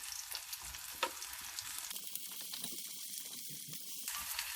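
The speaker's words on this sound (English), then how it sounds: "make green onion oil over medium-low heat. And add ground pork" Ground pork fries in green onion oil over medium-low heat, giving a bright, continuous sizzle with crackling pops and occasional stirring scrapes, heard up close and fairly quietly.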